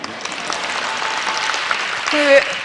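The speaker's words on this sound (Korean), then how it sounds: "박수는 왜 치시는 거예요?" A church congregation claps together in a steady burst of applause, with a few voices rising near the end.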